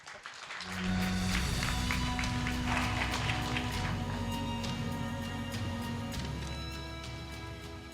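Summit audience applauding to welcome the Hong Kong Financial Secretary as keynote speaker, a sustained wash of clapping that swells quickly and holds steady, then slowly tapers.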